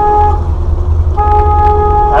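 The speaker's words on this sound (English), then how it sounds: "Okay, honk the horn." Horn on a boat sounds twice, a steady tonal blast broken by a short gap and then resumed, loud and close over low engine rumble.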